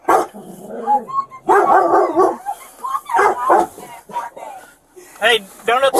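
A dog barks several times in short bursts amid raised voices and arguing during a police encounter outside a Walmart store, the barks mixed under and between the talk.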